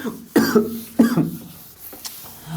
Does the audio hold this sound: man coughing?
yes